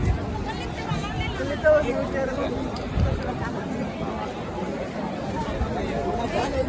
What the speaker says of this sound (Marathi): इथं खूप सारी गर्दी तुम्ही बघू शकता.